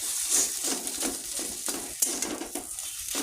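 Potatoes being sautéed and stirred in a pan for aloo chop, a close steady sizzle broken by scraping stirs and a light clink, no talk.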